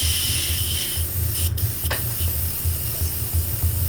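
An airbrush sprays paint in steady hissing bursts during an airbrushing session, close and fairly loud with a continuous airy hiss and low pulsing compressor hum underneath, without talk.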